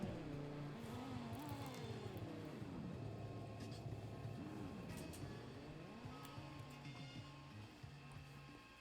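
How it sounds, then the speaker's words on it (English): A video game car engine, a faint revving whine that rises and falls through gear changes over a steady background, with no one speaking. "this is what this car sounds like"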